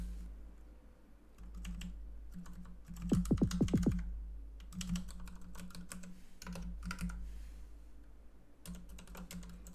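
Typing on a computer keyboard during a game night of AFL 23, with scattered key clicks, a quick burst of rapid strokes, then more sporadic taps, close and fairly quiet, with no talking.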